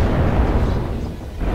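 A PPC energy weapon fires in a video game with a loud, dense, booming burst that fills the whole clip, heard alone with no talk.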